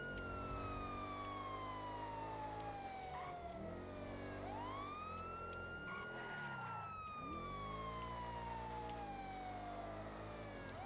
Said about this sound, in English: It's just it happens almost every time I turn on the sirens.